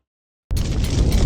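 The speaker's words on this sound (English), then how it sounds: "A wall of fire spreads around the epicenter of the impact." Explosion sound effect for a cosmic object impact: after near silence, a sudden sharp blast turns into a loud, deep, sustained roaring rumble.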